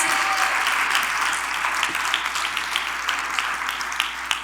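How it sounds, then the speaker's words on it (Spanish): A church congregation applauding during a Spanish-language sermon, dense continuous clapping that is loud and close, with a few sharper individual claps standing out through the whole stretch. "Démosle un aplauso al Señor."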